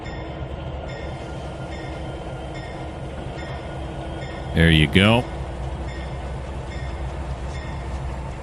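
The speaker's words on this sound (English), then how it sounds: "You're going to get your SD80 moving." An SD80 locomotive rumbles along in the Trainz 2019 railroad game, a steady low mechanical drone with faint periodic clanks, while someone speaks briefly over it.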